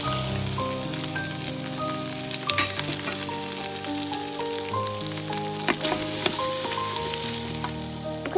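Onion and green chili fry in a pot with a steady, dense sizzle and crackle, close and continuous, over a background tone.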